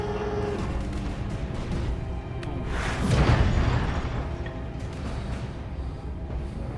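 In the BattleTech video game, mech limbs blow off in explosions: a dense, rumbling boom swells around the middle and then fades back into a steady roar of game noise.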